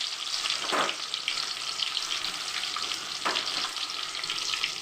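Onions and mustard seeds frying in oil in a kadai, a steady bright sizzle with a couple of spatula scrapes, close and without talk.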